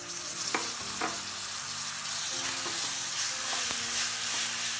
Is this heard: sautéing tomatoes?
yes